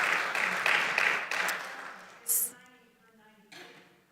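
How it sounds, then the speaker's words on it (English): A congregation gives a brief round of applause for a woman's 98th birthday, steady clapping from a gathered crowd that fades after about two seconds, followed by a short sharp noise and quieter room sound. "let's give Susan a little round of applause."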